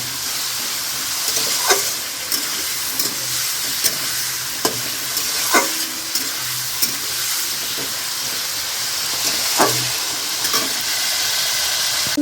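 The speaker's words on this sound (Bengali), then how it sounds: "চিকেনটাকে একদম ভালো করে ভেজে নেব যাতে কাঁচা না থাকে তো ভালো করে ভেজে আদা রসুন দিয়ে একটু ভেজে নেব" Chicken pieces frying in a pan with ginger and garlic for chicken chow mein, a steady loud sizzle broken by repeated sharp scraping stirs of the spatula, with no talking.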